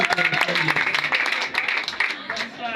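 A church congregation bursts into sustained applause and clapping during a deliverance testimony service, with voices calling out over the dense, continuous clatter of hands.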